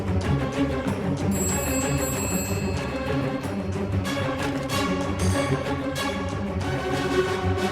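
A telephone rings with a bright electronic trill over a busy music-like background, the ringing dropping away partway through while the other sounds continue.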